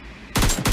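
Rapid automatic rifle fire from an AKM in PUBG Mobile, a loud close burst of several quick shots starting abruptly after a brief quiet moment.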